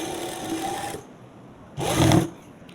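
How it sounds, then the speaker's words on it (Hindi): A sewing machine stitches fabric for cut-work sleeves, a soft whirring run that stops, then a brief louder burst after a short pause. "इस तरह से आपने फैब्रिक को रखकर सिलाई लगा देनी है।"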